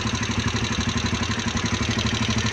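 A Rusi Chariot 175 motorcycle engine idles steadily, its even, rapid low-pitched thumping close by and loud, with a faint mechanical clatter running through it.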